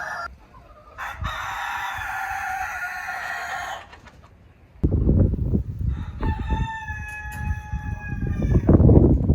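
A rooster on a homestead clucks, then crows a long drawn-out cock-a-doodle-doo in the second half, loud and close over farmyard rustling with no talking.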